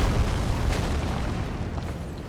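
Deep rumbling boom of falling rocks in Elden Ring: Shadow of the Erdtree on a mountain climb, a loud sustained low roar with a brief burst near the start.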